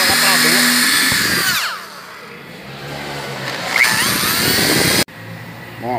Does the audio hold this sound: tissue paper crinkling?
no